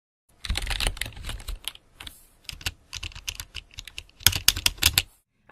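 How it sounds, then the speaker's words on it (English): Rapid clattering keystrokes on a computer keyboard, close and crisp, with bursts of fast typing separated by brief pauses. "You'll also need lots, and I mean lots, of keyboard sounds."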